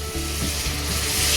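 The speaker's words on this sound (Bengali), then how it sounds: "তো এখন চিংড়ি ভাজা হচ্ছে" Prawns frying in hot oil in a home kitchen, a dense, close, continuous sizzle with a low rubbing stir in the pan, no voices.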